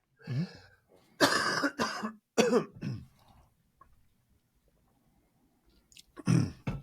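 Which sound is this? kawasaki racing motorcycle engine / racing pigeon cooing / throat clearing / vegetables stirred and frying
throat clearing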